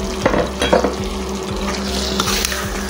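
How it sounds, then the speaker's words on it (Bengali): Boiled small potatoes being stir-fried in a pan, with a close, bright sizzle and a spatula scraping the pan in quick, repeated strokes. "এখন এই যে এখানে আমি দিয়ে দিব এই যে সিদ্ধ করে রাখছিলাম ছোটো আলু, এগুলি কষিয়ে নিব ভালোভাবে"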